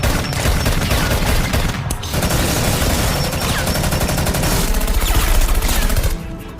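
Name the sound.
gunfight with machine gun fire in a film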